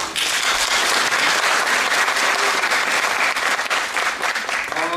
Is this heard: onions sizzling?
no